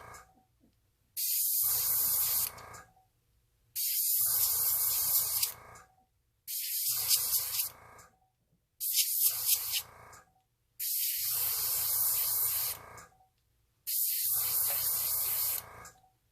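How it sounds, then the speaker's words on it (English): Airbrush spraying alcohol ink to form layered flower petals, seven steady hissing bursts of about two seconds each with short silent gaps between, close and fairly loud. "And by running the airbrush up and down like this, it creates these folds in the ink that resemble petals."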